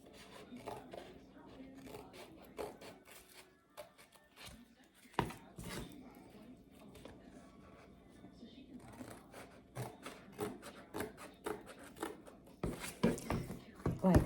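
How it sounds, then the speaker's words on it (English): Scissors cutting through canvas for a Halloween craft, close, quiet snips and crunchy cuts in uneven bursts, with a person speaking intermittently and louder cutting near the end. "I think I'll use my scissors now, and I'm going to go across."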